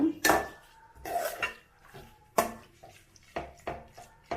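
Kushka masala being stirred and fried in a metal pot, a series of sharp clanks and scrapes from a ladle against the pot in an uneven rhythm, close and distinct.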